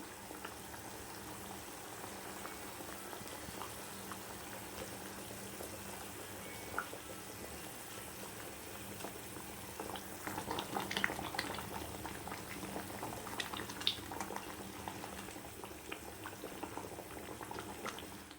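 Fish curry gravy bubbles at a steady boil in a pot, a continuous soft burbling with scattered pops that grows busier and a little louder partway through, with no voices.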